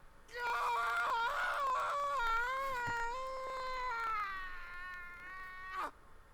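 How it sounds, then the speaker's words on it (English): A long, wavering scream from a character in the video game Final Fantasy 16, loud and sustained for several seconds before cutting off sharply, with no talk over it. "Oh, that scream went long."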